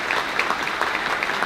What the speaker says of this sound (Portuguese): Pediria uma salva de palmas aos nossos integrantes deste painel